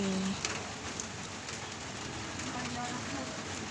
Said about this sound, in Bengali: বৃষ্টি শুরু হয়ে গেছে এই যে বৃষ্টি